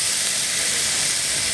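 Meat sizzles on a barbecue during a catch-and-cook, a steady broadband hiss that holds at an even level throughout without any speech.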